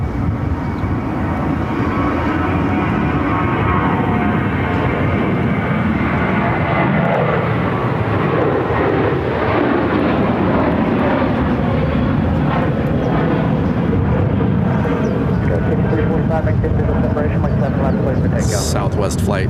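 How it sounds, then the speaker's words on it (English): A Southwest Boeing 737-700 at Phoenix airport gives a loud, steady jet engine roar that stays dense and close throughout, with people talking underneath at times. "Southwest flight 2008 headed to Austin on a 737-700."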